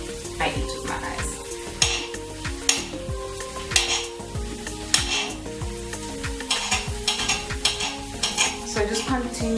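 Onions sizzle in a hot pan while a utensil scrapes and knocks against the metal in repeated strokes, a steady frying hiss running beneath the rhythmic stirring clatter.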